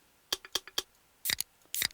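Bottle and can percussion in a track drop gives crisp, clicky metallic hits in a quick syncopated pattern, a few light taps then brighter double strikes, dry and close.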